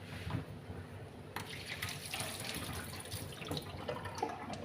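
Tap water runs into a sink while a new blender attachment is washed, a soft continuous splash broken by clatters and knocks of plastic parts being handled.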